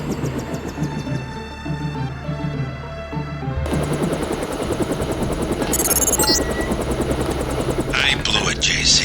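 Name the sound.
stealth helicopter flying, Deus Ex video game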